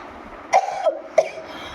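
Two short, sharp coughs about half a second apart, close by, with a raspy tail after each.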